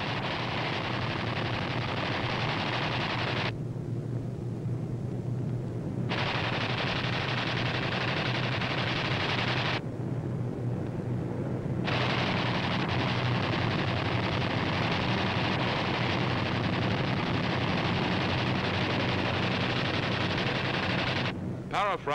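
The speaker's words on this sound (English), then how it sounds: "These B-25s are carrying out low-level strafing operations against Jap surface vessels and a Jap-held airfield." Machine guns of B-25 bombers strafing Japanese surface vessels and an airfield in World War II, a continuous loud rattling roar over engine drone, cut by two brief drops in the racket.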